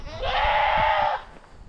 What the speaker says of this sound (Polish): Ona się po jakiejś chwili przestanie w końcu drzeć. No ale to jest taka koza.